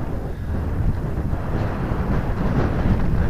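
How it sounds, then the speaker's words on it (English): Heavy wind buffets the microphone outdoors during a DJI Neo drone flight in a constant roaring rumble, with gusts swelling and easing and no other clear sounds. "it's crazy windy out now"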